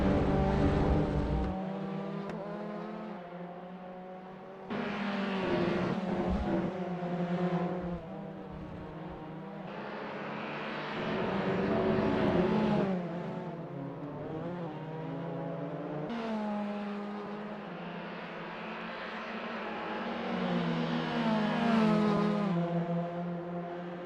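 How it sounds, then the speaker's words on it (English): Race car engines in the Assetto Corsa racing game scream through repeated rising and falling revs as a Toyota GR Cup pack laps Sonoma Raceway, with several cars audible, one after another, throughout. "Wayne Pearson's tailgating Eddie G so close, it's like they're sharing the same set of wheels as they near T4"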